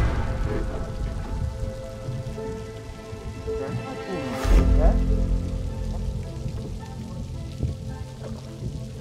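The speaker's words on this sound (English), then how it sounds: "the weather just switched completely badly. From sunshine and a little bit of wind to no wind at all and full rain" Heavy rain pours steadily on the water and boat while out pike fishing, a dense continuous patter heard up close, with a brief louder thump midway and a faint voice underneath.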